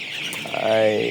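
Sonali chickens cluck close by, ending in a short tonal call over a steady background hiss.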